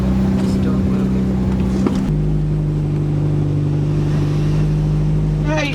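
A 1984 VW GTI engine idles and runs just after starting, a loud close steady hum whose pitch shifts slightly partway through, with faint voices underneath.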